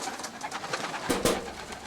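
Racing pigeons coo softly amid light ambient noise, with a couple of brief sharper sounds near the end.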